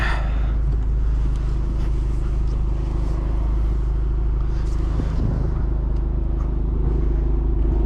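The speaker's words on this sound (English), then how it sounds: "this is the AWE Touring exhaust" A Honda Civic Type R (FL5) with an AWE Touring sports exhaust idles with a deep, steady rumble up close, with a brief rev partway through.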